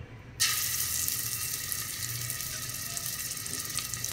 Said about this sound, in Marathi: तेल चांगलं तापलं की त्याच्यामध्ये अर्धा चमचा आलं लसूण पेस्ट